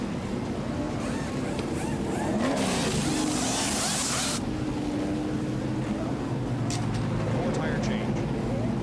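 A pack of 1989 NASCAR Winston Cup stock cars rumbles steadily down pit road, engines droning loud and continuous, with a brief bright burst of noise midway and an announcer talking over the roar.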